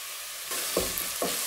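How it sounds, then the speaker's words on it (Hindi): Chopped cabbage, capsicum and green chillies frying with chicken in a pan for macaroni, a steady close sizzle with two short bursts of stirring clatter. "तमाम वेजिटेबल को मिक्स करेंगे और इन्हें चिकन के साथ 2 से 3 मिनट फ्राई करेंगे"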